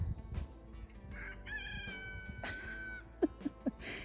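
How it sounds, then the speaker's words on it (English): One rooster crows in a drawn-out call at a farm with about ten roosters, followed by a few short clucks close by over faint background noise. "But as it stands, I already have like 10 roosters."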